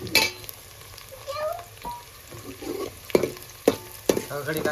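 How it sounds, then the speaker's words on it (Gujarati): Onions frying in a pan with garlic and green chillies for a fish and corn dish, a steady close sizzle broken by a few sharp scraping stirs and clinks. "આપણે ડુંગળી પકાવવાની છે પેલું લસણ ને લીલા મરચાં નાખી દઈશું"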